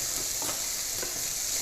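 Onions and leftover meat browning in a pot for shepherd's pie give off a steady, close sizzle, with a couple of soft stirring scrapes and no talking.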